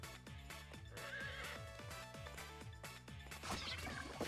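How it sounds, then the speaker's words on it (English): A horse neighing and whinnying in the video game Miitopia, with rhythmic clip-clop hoofbeats and game sound effects, close and continuous with no talking. "Horse."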